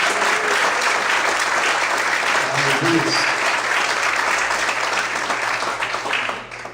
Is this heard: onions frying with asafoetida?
no